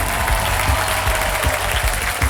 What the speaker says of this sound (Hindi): जोरदार तालियों से मैं चाहता हूं कि उनका स्वागत किया जाए